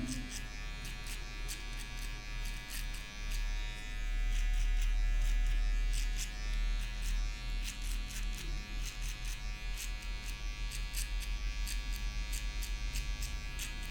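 Electric hair clipper cutting hair for a fade, a loud steady buzzing drone close up, its pitch and strength swelling and pulsing as the blade moves through the hair.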